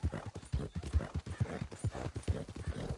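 Horse hooves clop steadily in Red Dead Redemption 2, a close, regular walking rhythm of about seven thuds over three seconds, heard alone without talk.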